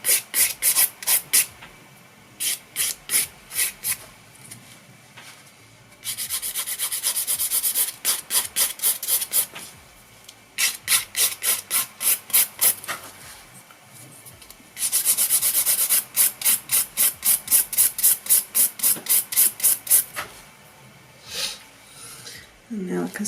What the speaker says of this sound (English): Okay, now filing up and over to the centre of the nail.